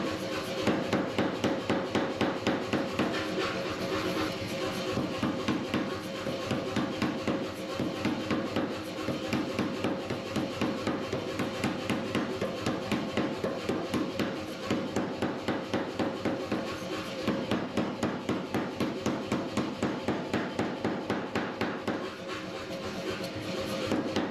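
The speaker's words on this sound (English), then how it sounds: "I'm forging down to as close as dimension as I dare, checking often with calipers" Steel being hammer-forged into a key for fixing a flat belt pulley to its shaft, with rapid, evenly spaced ringing blows, loud and close, continuing for the whole stretch without talk.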